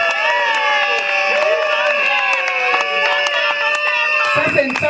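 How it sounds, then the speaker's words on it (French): Guests at a civil wedding break into clapping and cheering, but loud voices and ringing tones dominate throughout, with the crowd noise only showing as brief sharp transients underneath. "Est-ce qu'on peut applaudir?"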